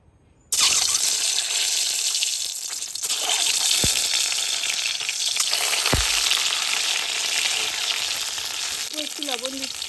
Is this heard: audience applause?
no